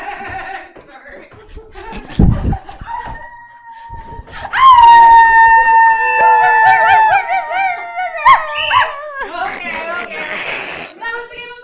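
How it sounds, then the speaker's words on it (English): Dogs in a montage of cute dog clips, with a yelp and scuffle early on, then loud drawn-out howling and yowling that rises and wavers, followed by yips and noisy mixed sounds. "This is just clips of dogs doing cute shit."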